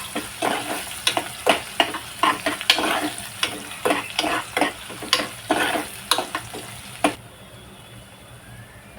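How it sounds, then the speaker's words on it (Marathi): Finely chopped onion with curry leaves fries in a pan under a steady sizzle, with rhythmic stirring scrapes about once a second. The stirring stops near the end and only a softer hiss is left. "कांदा भाजून घेऊया थोडा लालसर होईपर्यंत"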